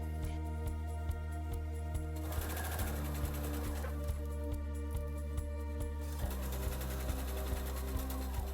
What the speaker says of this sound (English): I'm going to pin the pocket pouch to the pocket lining and stitch the edge.